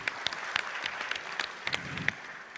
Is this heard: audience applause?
yes